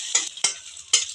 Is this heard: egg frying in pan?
yes